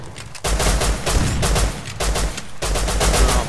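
Shotgun fire in the survival game Rust: three loud, close bursts of gunfire in quick succession, each followed by a dense crackling tail, with brief quieter gaps between them.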